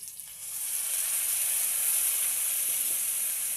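Soy sauce poured into a hot pan of cauliflower manchurian sets off a steady, bright sizzle and hiss that swells and holds, close and continuous with no talking.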